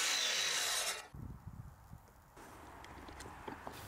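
A mitre saw cuts a strip of 1x3 wood clamped in a cutting jig against the saw fence, opening with a loud, steady whine for about a second, then winding down into quieter rubbing and handling noises.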